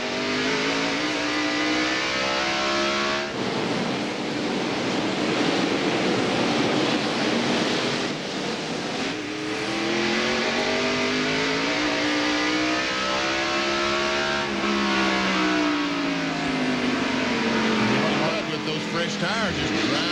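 NASCAR Winston Cup stock cars racing at Martinsville Speedway, a continuous loud engine roar with pitch rising and falling as cars accelerate through the turns, with race commentators talking over it throughout.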